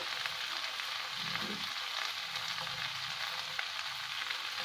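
Ground chili stir-fried in hot oil for sweet soy tofu, giving a steady broadband sizzle throughout with faint low scraping of stirring, no voices.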